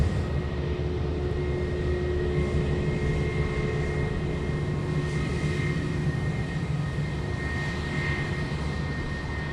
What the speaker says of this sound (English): Velocity 853 in from Melbourne, just about to land.